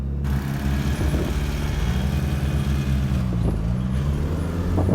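A Lotus Esprit sports car engine rumbles steadily and close as the car pulls off, a low continuous drone with slight rises in pitch as it moves away from a standstill.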